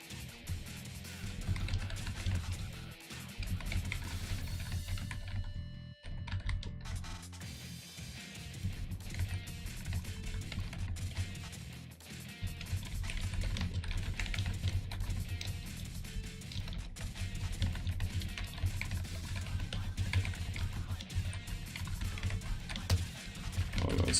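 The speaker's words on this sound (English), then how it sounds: "That's me typing." Computer keyboard typing runs steadily throughout as a quick, continuous patter of key clicks, fairly faint beneath a dense layer of game music and background sound.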